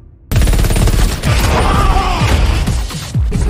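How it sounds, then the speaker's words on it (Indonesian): Gunfire from an action film scene: dense, rapid bursts of automatic shots, loud and continuous, with a brief gap before resuming. "Lalu tak lama kemudian Evie datang menembaki mereka berdua"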